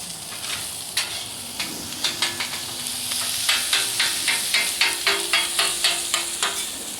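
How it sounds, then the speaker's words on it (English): Hot grease spits and sizzles on a Blackstone griddle while paella cooks, as a steady hiss runs under a quick, rhythmic series of scraping stirs that grows busier toward the end. "Greasy, it's spitting all over me and burning my hand off"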